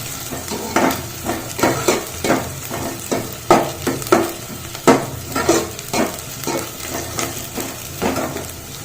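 Onions fried in oil in a pan for paneer dum biryani, with steady loud sizzling and a rapid run of spoon scrapes and clinks against the pan.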